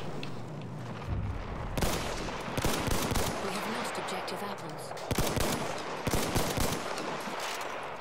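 Mondragon rifle fire in Battlefield 1, loud bursts of gunfire crackling close amid the chaos of ongoing battle, with distant shots and explosions layered throughout.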